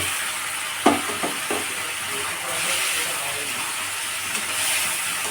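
Fish pieces frying in hot oil for a Bengali fish curry, a steady broadband sizzle and hiss with a sharp splash as the fish goes in, followed by a few smaller crackles.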